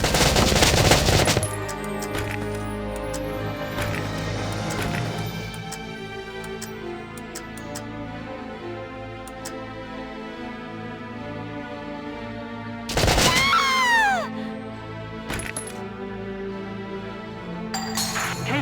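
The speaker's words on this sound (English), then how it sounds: "Be sure to watch for return fire." Gunfire in the Valkyria Chronicles video game, a burst of rapid shots at the start and another sharp volley later, set against sustained orchestral game music.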